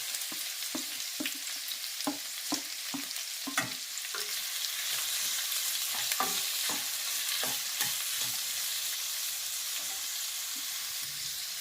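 Onion, garlic and slit green chillies frying in oil in a pan for a fish curry, with a steady sizzle and repeated sharp scraping stir strokes throughout, close and fairly loud, no talking.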